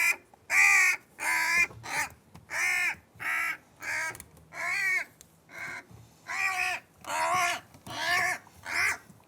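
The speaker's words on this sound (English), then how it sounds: "It's a young crow. You'd think it would sound a bit more grateful." A young crow caws loudly and insistently, a long series of harsh, ragged calls close by, each lasting about half a second with short gaps.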